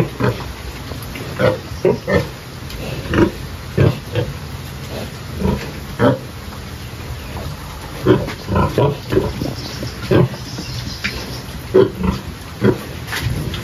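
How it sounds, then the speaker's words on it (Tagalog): A piglet being handled gives repeated short grunts and squeals in irregular bursts, close and fairly loud, over a low background hiss. "Medyo mailap lang po itong biik na to, at ito po ay hindi sanay na hawak-hawakan na"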